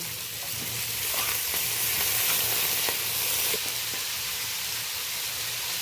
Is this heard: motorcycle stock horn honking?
no